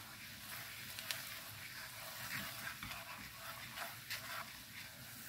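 Shrimp fry in a pan with a faint, steady sizzle, broken by soft scraping and clinking as a utensil stirs them at irregular intervals.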